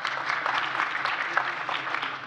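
Applause at an IMF seminar on financial inclusion: continuous, dense clapping from a seated audience that stays steady and fairly loud throughout.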